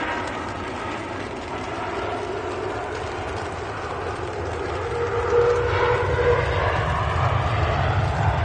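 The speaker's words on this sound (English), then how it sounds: "Very nice landing there by the Turkish." A Turkish airliner landing at Manchester Airport, heard as a loud, steady engine roar with a low rumble that swells slightly in the last few seconds, with no talking over it.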